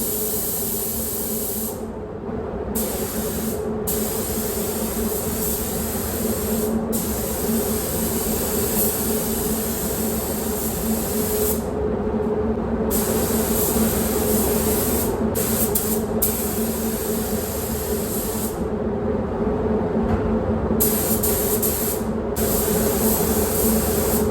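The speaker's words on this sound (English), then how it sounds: "I'll clean it all off now and then start spraying it" A continuous loud hiss from a spray gun spraying primer on a Ford Escort, broken by several brief pauses, running steadily and up close.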